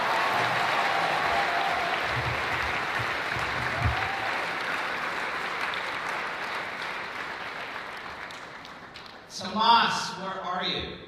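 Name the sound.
audience applause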